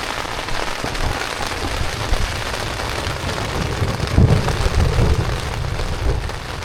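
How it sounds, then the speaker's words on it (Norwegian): Heavy rain drums steadily on a tent in the Børgefjell mountains, a dense continuous wash with a low rumble of thunder swelling briefly partway through, close and loud with no voices. "Det regner og lyner og tordner så vanvittig."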